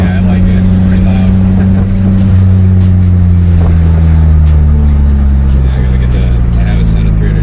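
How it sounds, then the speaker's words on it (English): Nissan 240SX S13 with a loud turbocharged engine, a steady heavy drone whose pitch slowly sags, with a faint higher whine riding over the engine note throughout. "Oh, there's a turbo sound."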